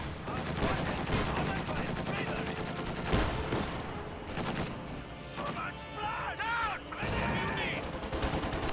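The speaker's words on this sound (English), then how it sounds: "Panzer Grenadiers walking right into 50 cal firing on the left." Machine-gun bursts from a .50 cal in a strategy video game, rattling amid dense, continuous battle noise with other gunfire and explosions layered throughout.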